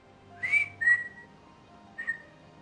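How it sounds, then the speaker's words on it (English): Short whistled notes, two close together and then a third after a pause, clear and fairly near against a quiet background. "what are we whistling at?"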